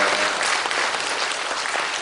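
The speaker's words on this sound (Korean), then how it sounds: "네, 우리 박수로 2015년을 맞습니다." A crowd at a church New Year's gathering applauds to welcome 2015, a thick, even burst of clapping held loud and constant from start to finish without voices over it.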